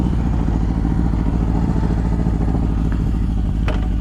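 A barn-find Honda CB750 motorcycle idling nearby, a loud, steady low rumbling throb that holds evenly throughout with a faint clatter, no talk.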